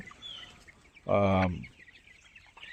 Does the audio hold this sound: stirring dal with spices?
no